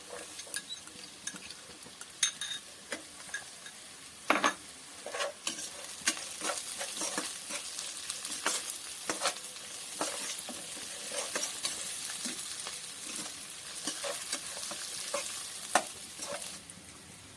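Garlic and green chillies frying in a pan and being stirred, a loud constant sizzle broken by repeated scraping strokes and spatula knocks, no speech.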